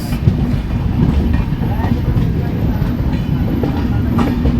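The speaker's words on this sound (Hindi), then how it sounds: "ऐसा लग रहा है कि दोनों ट्रेन आपस में ही लड़ रही हैं, लेकिन ऐसा कुछ नहीं है।" Two passenger trains pass each other on an Indian Railways route toward Katra, a steady close rumble of wheels and carriages with faint clickety-clack running throughout.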